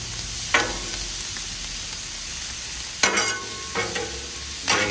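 Onions sauté on a Blackstone griddle with a continuous soft sizzle, broken by several scraping strokes of a spatula turning them, close and unaccompanied by talk.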